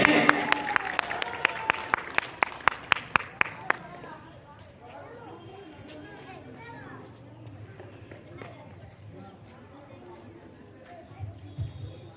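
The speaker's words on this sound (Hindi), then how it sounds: "जोरदार तालियों के साथ स्वागत करेंगे" An audience at a school Republic Day program gives loud applause as a teacher is welcomed to the stage. Sharp, closely spaced claps ring out for about four seconds, then thin into scattered claps, crowd murmur and voices.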